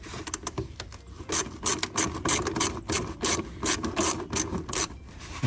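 Ratchet loosening a bolt on a 2019–2022 BMW X7 air box, a close, rapid run of clicking pawl strokes in uneven bursts with some scraping.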